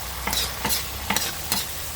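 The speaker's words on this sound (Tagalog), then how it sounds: "Ito naman, sardinas lagyan ng itlog." Sardines with egg fry in a pan, a steady close sizzle broken by four quick rhythmic stirring scrapes.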